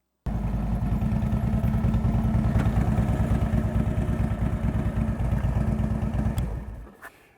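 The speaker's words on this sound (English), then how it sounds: "I get on my motorcycle and it feels like me and the road." A motorcycle engine starts abruptly and runs loud and close with a fast, even rhythmic putter, holding steady for several seconds before cutting off near the end.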